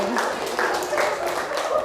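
Classroom audience clapping, a steady patter of many hands at moderate loudness, with voices heard mixed in throughout.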